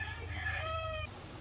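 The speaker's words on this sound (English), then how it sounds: "This is like there's a native chicken." A native village chicken in the Philippines gives a drawn-out, tonal crowing-cluck call lasting about a second, close and clear over a low background hum, then stops.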